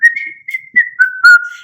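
A person whistles a wavering, sliding tune alone, in several short bursts that rise and fall in pitch, close and fairly loud with no talking.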